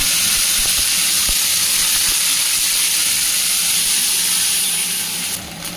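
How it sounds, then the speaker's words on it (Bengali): Ginger paste hits hot oil with whole spices like black pepper and mace for a pointed-gourd dorma, raising a loud, steady sizzle that hisses continuously, with faint stirring knocks early on. "এরপর এর মধ্যে দিয়ে দিচ্ছি আদা বাটা"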